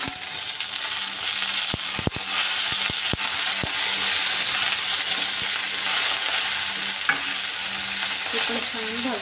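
Tomato, onion, garlic, ginger, coriander and curry leaves fry in a pan, a close, steady sizzling hiss broken by several sharp scraping and knocking stirs of a spoon, with no voices.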